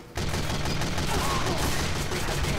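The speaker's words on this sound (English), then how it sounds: "That's actually a really good machine gun." A minigun firing in Team Fortress 2 starts abruptly after a brief pause and then roars as one continuous, dense rattle of rapid shots at steady loudness.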